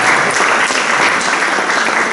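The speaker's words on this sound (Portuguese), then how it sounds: "Esse homem merece um nosso aplauso" Seated audience gives a warm round of applause for Jurandir at a formal induction ceremony, a loud, dense and steady clapping that holds evenly for about two seconds.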